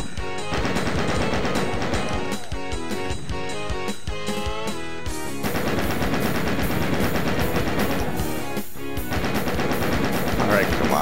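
Chaingunners and weapons firing in the video game The Plutonia Experiment, dense rapid gunfire rattling continuously at loud volume over a busy game soundtrack, with talk present.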